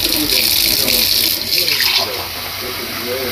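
Water runs steadily from a tap into a sink, a continuous hissing splash that stays fairly loud throughout the short stretch and eases slightly toward the end.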